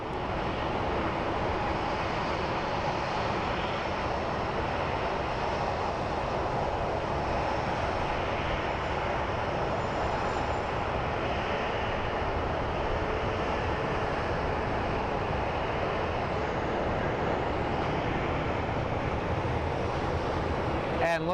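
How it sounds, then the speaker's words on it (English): United Boeing 737 jet on landing approach at Phoenix Sky Harbor airport, a steady broad roar of engine and wind noise that stays constant and fairly loud throughout, with no distinct events. "And here we have a United 737 coming in for a landing."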